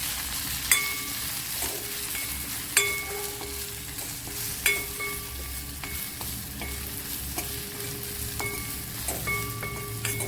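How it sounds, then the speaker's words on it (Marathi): Kashmiri chilli powder and garam masala stirred in a pan for a Samvedi-style okra amti, with a steady soft sizzle broken by periodic sharp spoon taps against the pan, close and free of speech. "काश्मीरी मिरची पावडर, गरम मसाला मिक्स करायचं।"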